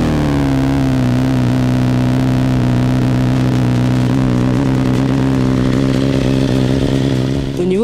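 A BMW S1000R motorcycle engine idles and revs loudly and steadily, with a strong low rumble sustained throughout and a brief blip of throttle near the end.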